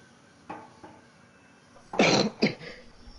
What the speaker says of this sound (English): I've been like coughing a lot.